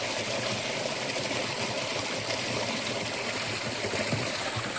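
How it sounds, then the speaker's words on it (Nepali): Drinking water runs from a makeshift bottle tap in a continuous hissing trickle, a dense, even splash that holds steady without a break. "पिउने पानी हाम्रो जुगाड बोतलको धाराबाट सरर पानी चुइँदैछ।"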